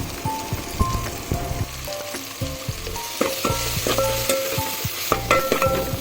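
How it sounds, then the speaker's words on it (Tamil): Chili powder and sambar powder sizzle and crackle in hot oil while a utensil stirs and scrapes the pan in an uneven clatter. "1 டீஸ்பூன் மிளகாய் பொடியும் 1 டீஸ்பூன் சாம்பார் பொடியும் போட்டு அதையும் எண்ணெயில் நல்லா வதக்கி விட்டுக்கலாம்."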